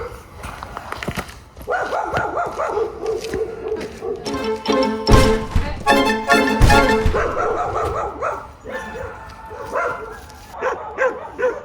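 A dog barking outdoors in a run of sharp, repeated barks and yips, some close and loud, with whimpering sounds between bursts.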